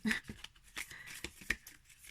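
An oracle card deck is shuffled by hand, giving a few soft, brief papery riffles and snaps at irregular spacing, close and quiet with no voice.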